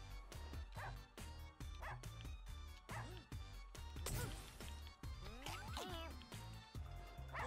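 Repeated yips and barks from a dog in a game, several short bursts spread through the stretch, sitting among busy game sounds and crashes, with a person talking over them.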